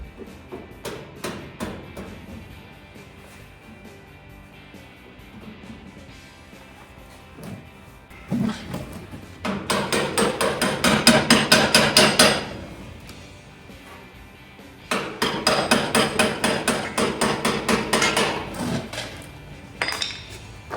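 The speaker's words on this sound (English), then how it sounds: "I brought a hammer over." A hammer striking metal on a 1940 Chevrolet truck: bursts of rapid metallic clanking and banging, loud and close, separated by quieter stretches with a few scattered knocks.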